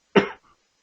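A single close cough, one harsh burst that trails off quickly, followed by a faint short tail and then silence.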